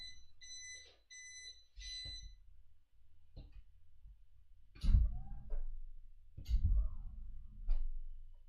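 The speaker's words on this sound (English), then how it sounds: "I want to turn that alarm." A desk alarm goes off with a few bright beeping bursts at the start. Then come louder thumps and knocks nearby, with faint ticking-like sounds between them.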